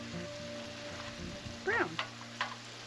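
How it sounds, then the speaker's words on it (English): Ground beef fries in a skillet at a campsite with a steady, soft sizzle. A few brief high chirps and a low background hum sit over the frying. "Cooking the ground beef in advance is probably a good idea if you're going camping"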